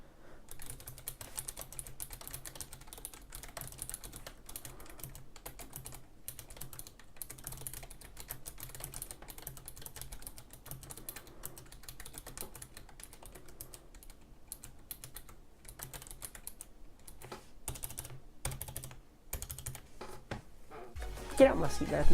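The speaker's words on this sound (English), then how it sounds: "Alright, typing test time." Rapid, uneven typing on a Razer Ornata membrane keyboard with rubber-dome keys, producing close, soft clacking bursts that continue for over twenty seconds, with a louder flurry of key presses at the end.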